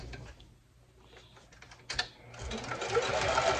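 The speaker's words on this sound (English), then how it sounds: "now we're gonna go on the machine and we're gonna sew everything nicely around" A sewing machine stitches around a fabric Christmas stocking. A quiet, uneven start builds into a steady, louder mechanical whir up close, with no talking.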